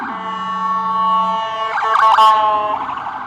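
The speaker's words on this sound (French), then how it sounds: "Là, il y a une ambulance qui arrive" An ambulance siren on a New York City street, sounding loud and close with a steady wailing tone, then shifting into rapid yelping bursts over light traffic noise.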